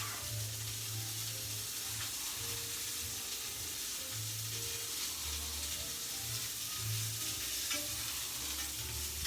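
Scallops sear in a hot pan with a steady, close sizzle and crackle, broken by faint low bumps and clinks, and no talking over it.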